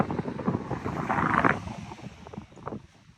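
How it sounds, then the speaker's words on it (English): Gusty wind on a very windy day buffets the microphone with a broad rushing roar that swells in the middle and then eases, with no talk over it. "It's a windy day today."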